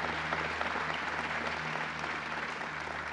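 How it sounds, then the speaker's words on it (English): Audience at an airport expansion groundbreaking applauding Mike Hall, a steady wash of clapping heard at a distance over a low hum. "let's give Mike a round of applause"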